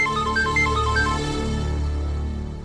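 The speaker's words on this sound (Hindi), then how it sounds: "देख, कमिश्नर का फोन है" A mobile phone rings with an incoming call, playing a bright, repeating melodic ringtone that sounds up close and then fades out toward the end.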